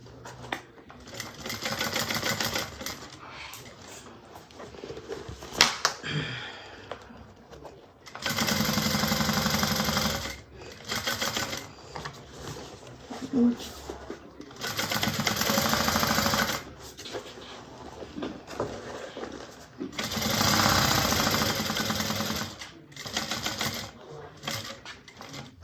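A sewing machine stitches a bag along an existing stitch line, running in long steady bursts of loud whirring broken by short pauses, with no talk over it.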